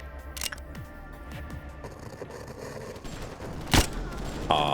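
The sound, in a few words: gunfire in the video game Lobotomy Corporation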